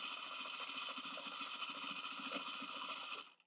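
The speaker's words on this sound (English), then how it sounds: "I'm going to pivot and I'm just going to sew." A sewing machine stitches through wool felt in a quick, even mechanical chatter lasting a few seconds before stopping abruptly, close and alone.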